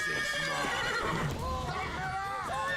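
Horses in The Witcher 3: Wild Hunt neigh and whinny repeatedly in loud, wavering calls, with clip-clopping hooves over dense game action sounds and someone talking.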